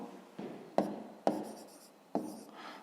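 A pen writes out a math expression for a fifth-grade exercise in several quick bursts of scratchy strokes, each starting with a sharp tap, close and alone with no talking.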